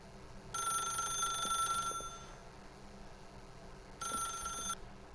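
An old-style telephone in The Stanley Parable video game rings in two clean electronic bursts, a long ring and then a shorter one after a pause, fairly quiet over a faint ambient hum.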